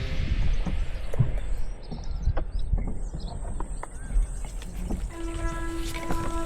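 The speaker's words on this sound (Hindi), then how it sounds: "ट्रेन आ रही है" A train approaches near a waterside spot in Manendragarh, Chhattisgarh: a steady, heavy low rumble builds throughout, with scattered clanks and a sustained tonal whine rising near the end, and no talking.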